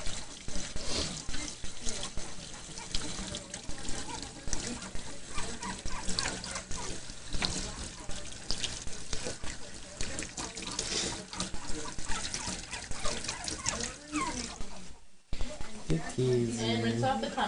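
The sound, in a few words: water rinsing a puppy during a bath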